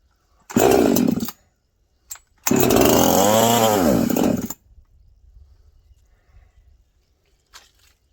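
A Husqvarna 346XP chainsaw fires up in two loud, close bursts, the second longer with its pitch rising and falling as the throttle moves, then it cuts out to near silence with faint rustling.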